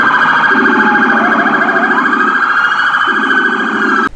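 A Federal Signal Rumbler siren on a decommissioned police car wails loud and close, with a deep low-frequency rumble pulsing in and out underneath the main siren tone, then cuts off abruptly.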